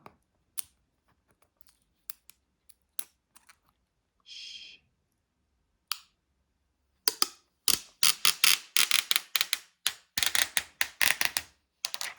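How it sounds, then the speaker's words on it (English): Scattered faint clicks and a soft hush, then a long crackling peel of the packaging seal on a Kobo Libra Colour box, a rapid series of sharp ripping bursts, close and fairly loud. "Just hear that peel."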